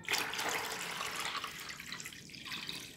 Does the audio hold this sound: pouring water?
yes